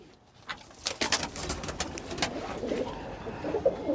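A pigeon chick in poor health coos softly at close range in a short series of low throaty calls, with light rustling and bird noise around it and no talking.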